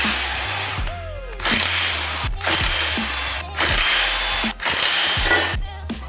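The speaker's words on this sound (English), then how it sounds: "I'm gonna have to get the big daddy rattle gun. Big snap-on rattle. Rattle them off." Big Snap-on impact wrench rattling bolts off an RB25 engine during removal from an R32, sounding in several loud bursts of hammering rattle, each about a second long with brief pauses between.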